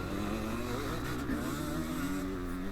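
250cc two-stroke and four-stroke motocross bikes race around a dirt track, a continuous buzzing engine drone holding steady, loud and close, without any voices.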